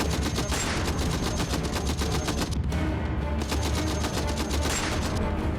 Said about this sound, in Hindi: तभी अचानक गोलियां गरजने लगी